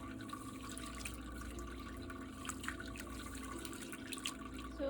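Grains being rinsed in a bowl of water at a kitchen sink, a sixth wash for a homemade cereal, with soft continuous sloshing and dripping and faint tap-like trickling under low background hum, no voices.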